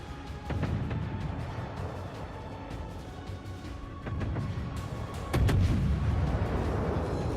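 Battleship guns in the World of Warships video game fire several heavy booms in an uneven series, with deep rumbling between shots and the loudest blast near the end.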